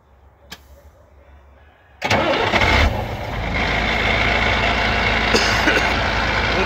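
MAN truck with a ZF 16S181 gearbox starts up after repair, a sudden loud crank catching into a rough, steady idle with a knocking drumming from the gearbox, after a quiet opening.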